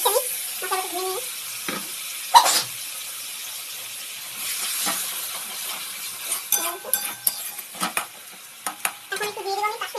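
Water poured into masala frying in a pan, for a potato, cauliflower and egg curry, brings a loud steady sizzle and hiss, with intermittent stirring clinks and scrapes that grow busier toward the end.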